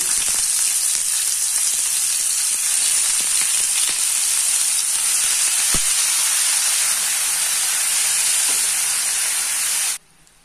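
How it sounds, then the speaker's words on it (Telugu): Mushrooms fry in a pan for a simple mushroom curry, giving a steady, loud, close sizzle and hiss with a few faint knocks. It runs unbroken for about ten seconds, then cuts off abruptly. "ఇది ఈ మష్రూమ్స్ ఫ్రై చేసుకోవాలండి."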